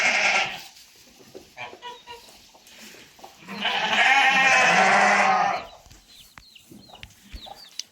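Sheep bleat on a farm: a few shorter calls, then one long, loud, wavering bleat near the middle, with fainter animal sounds and small knocks around it.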